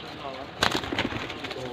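Soft, low cooing of golden racing pigeons, a few short coos, heard close amid steady background noise and a brief knock.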